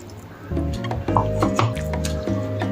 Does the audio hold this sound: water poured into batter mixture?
yes